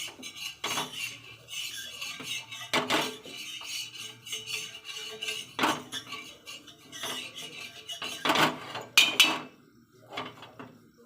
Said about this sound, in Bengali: দেখো আমি ডিমটা ফাটিয়েছি একটু লবণ দিয়ে নিয়েছি